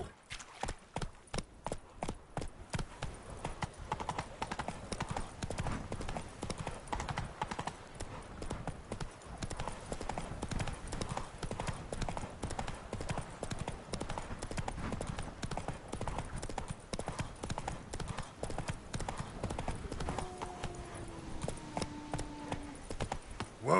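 Roach the horse in The Witcher 3 trots along, a brisk, even clip-clop of hooves repeating close up throughout, with a brief whinny near the end.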